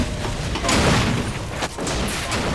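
Dense, continuous rumbling explosions and booms with crackling gunfire in the video game Max Payne 3, a loud chaotic battle din with no pauses.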